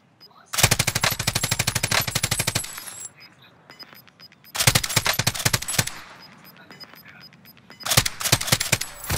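Automatic gunfire aimed at the player in a shooter video game comes in three loud, rapid bursts of rattling machine-gun fire, with quieter gaps between them.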